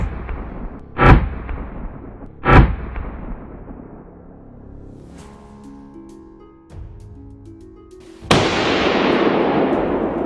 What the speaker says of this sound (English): The moment the boar crossed my line of sight, a single, sharp shot rang out